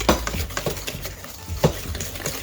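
Snickerdoodle cookie dough being mixed in a bowl, with repeated close stirring and scraping strokes at an uneven rhythm and no talking.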